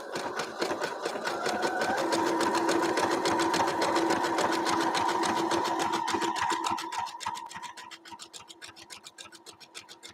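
A sewing machine runs a straight stitch attaching lace to a Sunbonnet Sue quilt. Its needle taps fast and even, close and steady, then thins and slows toward the end.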